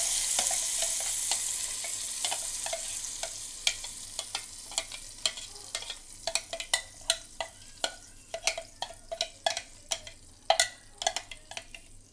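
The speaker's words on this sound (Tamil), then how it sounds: "கடுகு உளுந்து பொரிஞ்சு உளுந்து நல்லா சவந்ததுக்கப்புறமா நம்ம அரைச்சி வச்சுருந்தது அதை சேர்த்துக்கலாம்" Ground tomato paste added to a mustard seed and urad dal tempering hisses steadily, softening into a quieter fry as sharp pops and crackles of spluttering seeds grow more frequent and rhythmic.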